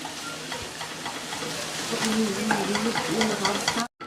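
Minced meat frying over low heat in a pan, a close steady sizzle with scraping stirring strokes throughout, briefly cutting out near the end.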